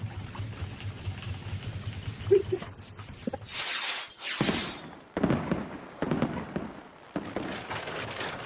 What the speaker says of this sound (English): Achievement unlocked, real fireworks.